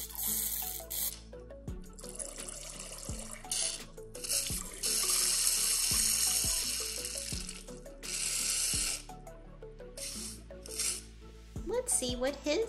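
Water trickles from an LOL Surprise boy doll toy into a sink in short runs, with splashy bursts and gaps between them, while a person talks over parts of it.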